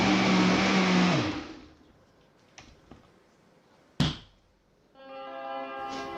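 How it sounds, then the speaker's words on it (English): A kitchen blender whirs loudly while blending a protein shake, then winds down and stops. A few sharp clunks and taps of the jar follow, then a steady motor hum starts again near the end. "put it back in the blender, give it a little shake, and let it blend again"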